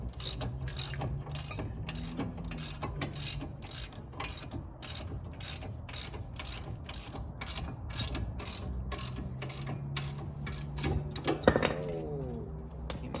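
A hand ratchet clicks rapidly and repeatedly while tightening parts during a brake rotor and pad job on a 2005-2009 S197 Mustang, close and steady, with a few metallic clanks and a brief voice near the end.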